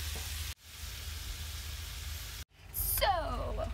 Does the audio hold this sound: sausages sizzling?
yes